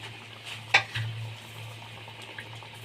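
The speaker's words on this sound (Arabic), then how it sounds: "ننزل الطاسه التانيه كده، هقليهم انا الطاسه التانيه دي كمان" Tilapia frying in oil in a pan: one sharp metallic clank of the pan, then a low, steady sizzle continuing quietly to the end, no voices.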